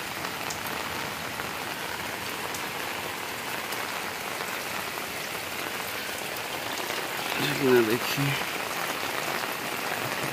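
Heavy rain pours steadily onto a home courtyard during fishing, a dense continuous hiss of drops that swells briefly near the end, with a voice speaking a word.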